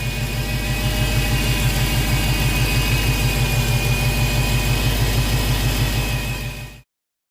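The engine of a Dodge Hellcat runs steadily and loudly after the clutch is let out, a deep, continuous, close drone that holds level and then cuts off abruptly near the end.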